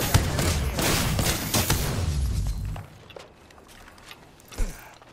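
Dense bursts of gunfire from a firefight in the battle royale game Apex Legends rattle loudly for a few seconds, then give way to quieter scattered shots and a sharp crack near the end.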